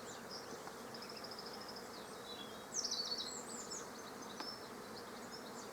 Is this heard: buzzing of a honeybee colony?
yes